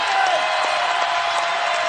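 Basketball crowd roaring in an arena during an Iowa State versus West Virginia women's game, a dense, loud, continuous wash of cheering with no break.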